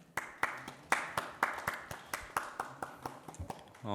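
A small audience at a youth housing-poverty forum claps to welcome a speaker, with sparse, distinct hand claps in a loose rhythm in a quiet room.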